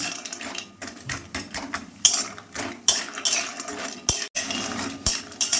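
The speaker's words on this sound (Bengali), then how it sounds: "এর মধ্যে বড়িগুলো দিয়ে দিলাম, দিয়ে নাড়াটা করে দিলাম যাতে না পুড়ে যায়" Homemade lentil dumplings (bori) of ash gourd and urad dal stirred while frying in a pan, with repeated close metal spoon scrapes and clinks against the pan over a faint fry sizzle.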